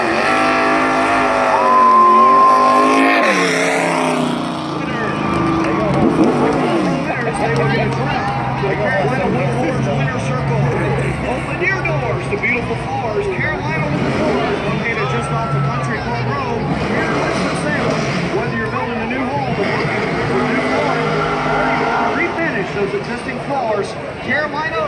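A race car rumbles around the Bowman Gray track on a victory lap while a crowd cheers and a voice talks over the noise throughout.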